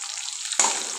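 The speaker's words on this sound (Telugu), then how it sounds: "చూడండి, తాలింపు కొంచెం బాగా ఏగుతుంది కదా" Tempering spices and dals fry in hot oil in a pan for gongura pachadi, a close, steady sizzle that jumps louder as the mixture is stirred partway through.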